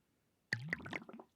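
Redstone dust dropped into a brewing stand in Minecraft gives a single short, soft, wet squishing gurgle that bubbles briefly before fading, quiet and alone.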